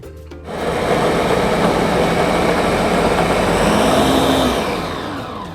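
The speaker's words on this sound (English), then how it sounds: "we're going to put all the sliced veggies into a blender along with some beef stock" A blender purees sliced vegetables with beef stock, running continuously at high speed, a dense steady whir starting abruptly after a brief pause and holding loud throughout.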